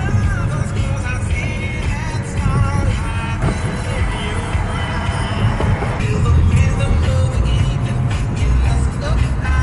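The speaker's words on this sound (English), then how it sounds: "Driving over the Manhattan Bridge, Brooklyn bound" A car driving across the Manhattan Bridge in New York City, Brooklyn bound, at night: a steady, loud rumble of engine and road noise with traffic around, continuous throughout, with voices faintly mixed in.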